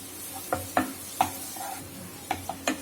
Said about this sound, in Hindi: मसाले डालने के बाद हम इन्हें आधे मिनट तक और भून लेंगे